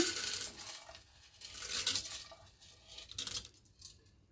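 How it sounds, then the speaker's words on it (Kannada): Dry cowpea beans poured into a metal pressure cooker make a rattling patter of hard seeds on metal. The spill comes in several uneven bursts with short pauses, close and moderately loud. "ಕುಕ್ಕರ್ಗೆ ಇವಾಗ ಅಲಸಂದೆ ಕಾಳು ಹಾಕೋತಾ ಇದ್ದೀನಿ."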